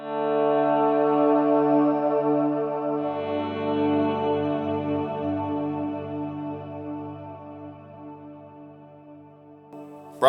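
Soft electric guitar volume swells through a Helix patch rise slowly without a picked attack, blooming into a wide, shimmering wash of sustained tone that lingers and fades gently.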